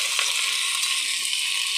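Vegetables with cauliflower and fish sizzle steadily in hot oil in a pan. The frying hiss stays dense and continuous and sounds close, with no voices over it.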